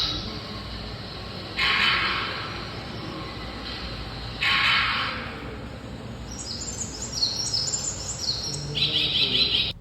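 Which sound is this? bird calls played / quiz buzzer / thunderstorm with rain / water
bird calls played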